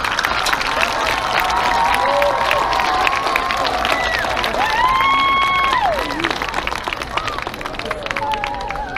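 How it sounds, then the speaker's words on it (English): Crowd applause and cheering for students at a school senior day event, a steady wash of clapping with scattered whistles and voices, loud and continuous throughout. "a big round of applause for all these students"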